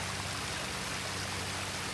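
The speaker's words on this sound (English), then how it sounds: "Living, dancing, and singing water." Water flowing in a pondless waterfall with mature plants, a steady bright splashing rush, close and continuous, with no voices over it.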